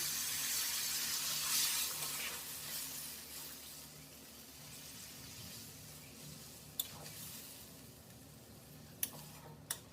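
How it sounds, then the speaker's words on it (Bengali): Water poured into a pan of frying koi fish gives a loud hissing rush at first that fades into a softer bubbling simmer, with a few sharp clicks near the end and no voices. "মাছগুলো দেওয়ার পরে ওটা আমি পরিমাণ মতো জল অ্যাড করে দেবো।"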